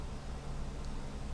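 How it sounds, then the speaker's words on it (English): A home air conditioner runs steadily in the background, giving a faint, even hum and hiss throughout with no talking. "you might hear my air conditioner going in the background"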